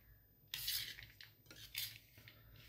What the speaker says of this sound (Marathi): थोडा वेळ लागतो याला मिक्स करायला